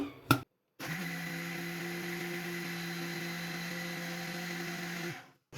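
An electric blender whirs through kunafa batter with cornflour and a pinch of salt, starting after a brief click and pause, holding a steady high droning hum for several seconds before winding down.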